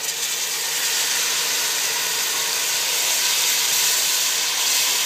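Tomatoes frying in a pan for oats shorba, giving a steady, loud broadband sizzle that holds evenly throughout with no talking.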